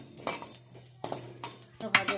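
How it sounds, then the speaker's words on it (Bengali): Cumin and coriander seeds are stirred as they fry in a hot wok, with a spatula scraping and clinking against the metal in quick bursts while someone talks. "জিরেগুলো নেড়ে চেড়ে একটু ভেজে নিই"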